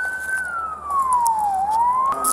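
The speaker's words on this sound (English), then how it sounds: "I'm gonna shut my sirens off." Police car siren sounding close and loud, one wailing tone gliding slowly down and then back up over a couple of seconds.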